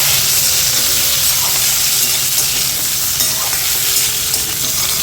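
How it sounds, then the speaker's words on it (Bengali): Boiled potatoes frying in hot mustard oil make a loud, continuous close sizzle with occasional stirring, and no one speaks. "এবার আমি আলুগুলোকে ভেজে নিচ্ছি।"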